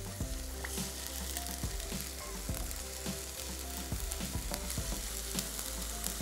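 Food frying and sizzling in a pan, a dense continuous crackle with a low steady hum underneath and rhythmic stirring scrapes every second or so, close and without speech.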